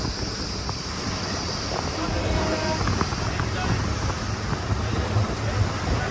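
The Alaknanda river rushes nearby in a Himalayan valley near Rudraprayag on a rainy day, a broad, steady roar of flowing water that stays constant throughout with a little wind buffeting the microphone.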